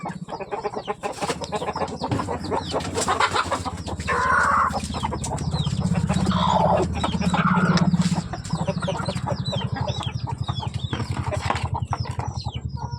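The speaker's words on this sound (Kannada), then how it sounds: "ನೋಡಿ, ಇದು ನಮ್ಮ ಬ್ರೀಡರ್ ಹುಂಜ." Several hens cluck and chatter continuously nearby, with a breeder rooster's deeper calls mixed in, against steady outdoor background noise.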